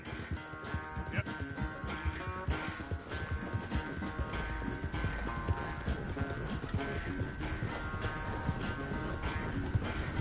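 Horse hooves clip-clopping in the video game Red Dead Redemption 2, a steady walking rhythm of close hoofbeats running the whole time over a music score, with a brief whinny and a voice speaking now and then.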